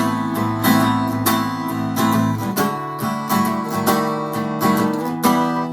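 A guitar rings out a series of strummed chords, each attack clear and sustained, changing shape every second or so with no voices.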